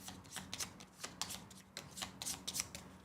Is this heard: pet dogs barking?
no